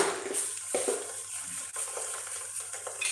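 Southern Thai curry paste stir-fried in a pan, a soft steady sizzle broken by a few scraping stirs, close and fairly quiet with no talking.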